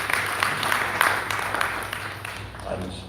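An audience claps together in a hall, a steady patter of many hands at moderate distance, with a voice talking over the applause as it continues.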